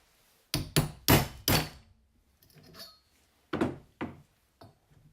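A big hammer taps collars into a BMW R80 airhead engine on a machine surface. A quick run of four loud, ringing metallic blows is followed by a few lighter, scattered knocks, close and alone.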